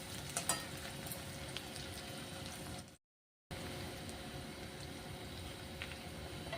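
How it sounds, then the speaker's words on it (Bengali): Onions fry gently in oil in a pan for a vegetarian tadka, a faint, steady bubbling sizzle broken by a short moment of total silence midway before resuming unchanged. "আমি ভালো করে একটু পেঁয়াজটাকে ভেজে নেব।"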